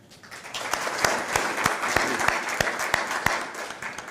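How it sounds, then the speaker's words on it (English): Applause at a staff recognition ceremony, a crowd of hands clapping steadily with several loud, distinct claps from someone nearby punctuating the patter, building slightly over four seconds. "We'll clap for everybody"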